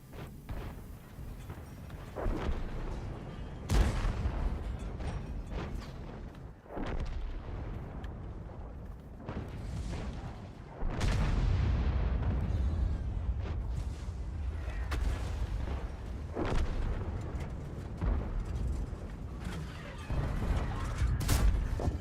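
Tank cannon shots from World of Tanks: heavy booming blasts recur every few seconds over a dense, continuous mechanical rumble of engines and tracks.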